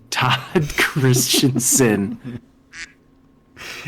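A voice imitates a duck with a run of loud, nasal quacks, followed by a pause and a couple of shorter squawks. The sound is close and prominent, and people are chatting around it.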